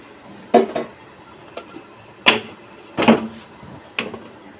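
A metal lid set onto a cooking pan of fish roe and eggplant curry, heard as a series of sharp clanks and clinks spaced over a few seconds against a quiet kitchen background.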